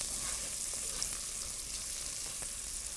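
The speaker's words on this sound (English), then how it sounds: "We're going to give this one quick stir." Braised chicken thighs with capers, olives and bacon get a quick stir in a pan, making a soft, steady sizzle with a few faint scrapes, quiet and unaccompanied by speech.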